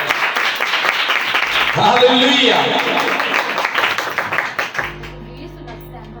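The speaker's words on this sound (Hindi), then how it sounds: "सब जोरदार तालियां।" Applause at a prayer meeting, a crowd clapping loudly for several seconds alongside a spoken exclamation, then fading into quieter voices and a steady tone.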